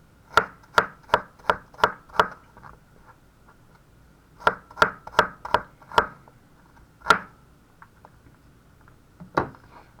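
An onion being chopped on a cutting board with a knife: crisp, close blade strikes in quick bursts of five or six evenly spaced chops, a pause, another burst, then single isolated cuts.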